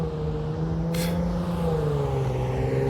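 A car drives past outdoors, its engine a steady, loud drone that holds for a few seconds and shifts slightly in pitch as it goes by, with no talk.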